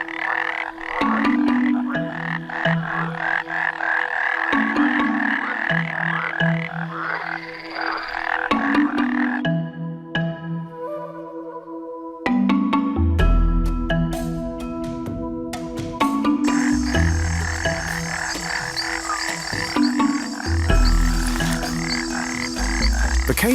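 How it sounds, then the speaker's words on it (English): Cane toads, large terrestrial toads, croak in a dense chorus that runs throughout, with repeated calls overlapping near and far and a brief thinner stretch midway before the full chorus resumes loudly. "The cane toad is a large terrestrial toad native to South and Central America"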